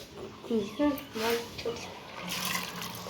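Water poured off soaked chickpeas and peas in a home kitchen, a few soft splashing gushes, with someone talking over them.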